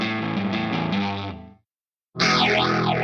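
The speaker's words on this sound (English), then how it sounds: "Distortion and phaser." A Harmony H7208 Roy Smeck electric guitar plays through distortion and phaser effects: a fuzzy sustained chord fades to silence, then a loud distorted chord returns with a sweeping, whooshing phase swirl.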